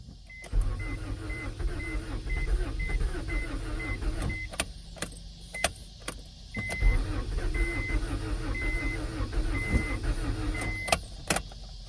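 An old 1992 Acura Integra that has sat unused for over five years is cranked in two long attempts, the starter whirring in a steady rhythmic pulse without the engine catching, with brief clicks between tries.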